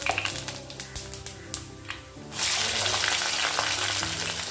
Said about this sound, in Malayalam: ഒരു കടായിലോട്ട് വെളിച്ചെണ്ണ ഒഴിച്ചു കൊടുത്തിട്ടുണ്ട്. അതിലോട്ട് കുറച്ച് ഉലുവ ഇട്ട് കൊടുത്തു. ഇനി പെരിഞ്ചീരകം ഇട്ട് കൊടുക്കാം.